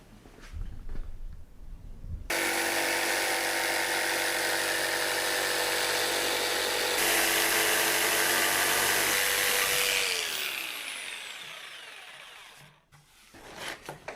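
A handheld power tool, such as a jigsaw or router, cuts and trims a wooden workpiece, running as a loud steady whine for several seconds before spinning down, with brief workshop noise at both ends.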